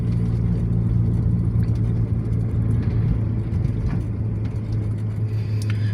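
A car drives along a city road in Bucha on a driving-test route, its engine and tyre rumble forming a steady, close, continuous drone with no voices.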